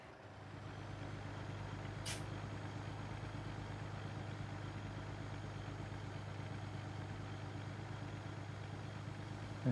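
A truck in American Truck Simulator idles with a low steady engine drone, and a single short sharp hiss of the air brake cuts through near the start.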